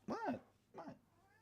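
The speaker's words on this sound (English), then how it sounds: "My little kitten's here." A little kitten gives two short, close meows, the first louder and the second softer after a brief pause, in a quiet indoor room.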